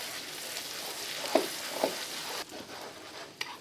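Faint, steady sizzling of small green onions frying in a saucepan, with a few soft clinks and stirring sounds over the hiss.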